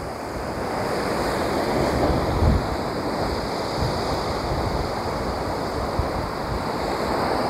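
Rough sea surf crashing at Portland Bill, a dense continuous roar of breaking waves and churning water with heavy wind buffeting the microphone, no voices.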